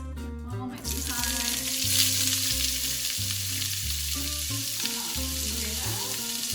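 Onions sizzle loudly in a hot pan, a steady broadband frying hiss that swells as they hit the oil, with a low, rhythmic background hum running beneath and no talking.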